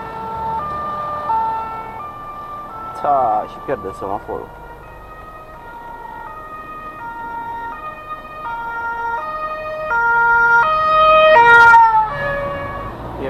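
Ambulance siren wailing in stop-and-go city traffic in Germany, its two-tone pattern steady and fairly close through the whole stretch, with road noise underneath and brief talk from people inside a vehicle.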